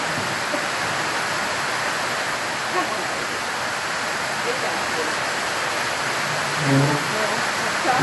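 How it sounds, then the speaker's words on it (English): Steady rain falls outdoors as a continuous broadband hiss, fairly loud and unbroken, with a brief louder patter near the end and no clear voices. "Look at the view, listen to the rain."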